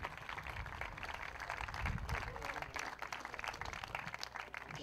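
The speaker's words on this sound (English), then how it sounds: "give him a huge round of applause" A crowd at the men's trap shooting finals of the 2015 ISSF Shotgun World Cup in Acapulco claps during the medal announcements. The applause is faint, distant and scattered, and it continues steadily.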